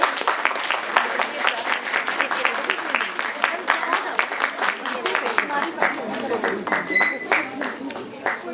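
Audience applause at a National Startup Day event, sustained crowd clapping filling the whole stretch, with a faint tonal chime briefly near the end.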